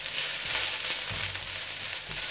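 Cabbage frying for chow mein in a hot pan, a loud continuous hiss and sizzle with a few stirring scrapes, no voices.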